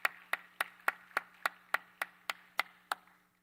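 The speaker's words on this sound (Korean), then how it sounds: "박수로 모시겠습니다" A church congregation at a Friday prayer meeting claps in a steady, even rhythm: about a dozen sharp, evenly spaced claps in quick succession, fairly quiet, then fading out.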